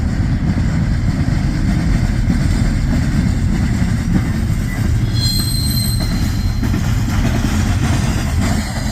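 A freight train rolls steadily past up close, its loud rumble continuous throughout, with a wheel carrying a flat spot adding repeated pounding against the rails and a brief high squeal partway through.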